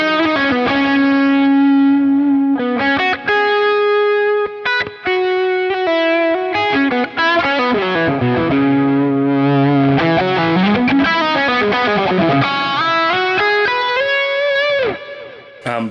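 Distorted electric guitar lead played through a Line 6 Helix preset, a loud sustained melodic line of held notes and quick runs with bends, with no talking.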